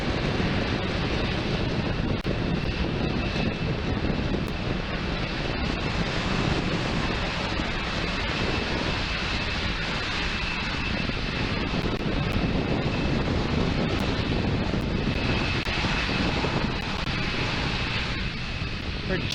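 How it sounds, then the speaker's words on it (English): SpaceX Falcon 9 rocket with Merlin 1D engines launching from Space Launch Complex 40, a dense, steady roaring rumble heard from a distance for the whole stretch, with no voices. "Falcon 9 clearing the tower at Space Launch Complex 40 and making its way to orbit"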